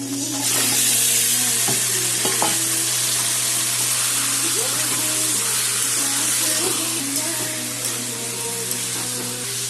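Chicken pieces fry loudly in a pan over browned onions, giving a close, continuous sizzle with occasional scraping stirs and faint background tones throughout.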